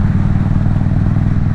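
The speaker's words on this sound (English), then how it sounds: "I think my exhaust is louder on this bike." An Indian Super Chief Limited motorcycle's engine and exhaust give a steady, throbbing low rumble close by, with even pulses and no voices.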